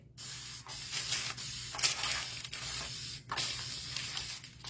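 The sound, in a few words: aerosol adhesive spray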